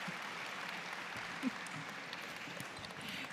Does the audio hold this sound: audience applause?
yes